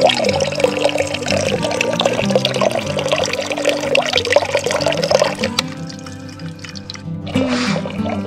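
Water pouring steadily from a tap or spout in an Alpine setting, a continuous bright splashing that runs loudly for several seconds, then cuts to quieter trickling and a brief final gush.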